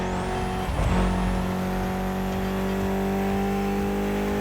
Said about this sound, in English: Mitsubishi gave us a nice inline four-cylinder with already 280 horsepower